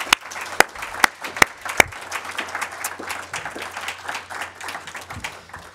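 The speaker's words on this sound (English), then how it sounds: "So let's give him a big round of applause." An audience at a university talk on international sports competitions in Iowa City breaks into applause, a few sharp early claps swelling into steady, moderately loud clapping that fades slightly toward the end.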